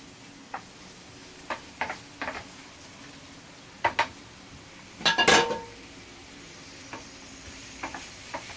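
Zucchini tipped into a hot pan and stirred, with scattered scrapes and clatters of a utensil against the pan over a low steady sizzle, a louder burst of stirring midway, no talk.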